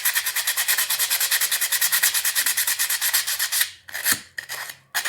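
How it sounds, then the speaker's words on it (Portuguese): Coarse 80-grit sandpaper rubbed over a wooden craft piece, close and loud in quick, even back-and-forth strokes, then a few slower, irregular passes with brief pauses near the end. "Aqui eu tô usando uma lixa 80, que ela é bem grossa. Só pra dar um efeitinho na madeira."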